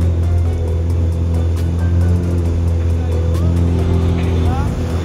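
An amphibious supercar drives on open water near yachts off Miami, its engine droning steadily and loudly throughout with a constant low hum, boat noise mixed in.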